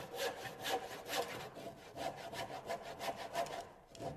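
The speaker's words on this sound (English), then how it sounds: "When I'm making my cuts with a handsaw, I want to be sure not to go any further than the imaginary lines." A handsaw cuts notches into a wooden stair carriage in steady back-and-forth strokes, close and rasping, about ten rhythmic strokes with a brief pause near the end.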